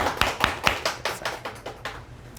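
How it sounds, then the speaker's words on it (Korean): Applause welcomes a church elder at a worship service, heard as about ten sharp claps in a brief, slightly uneven rhythm, close and fairly loud. "박수로 환영합니다"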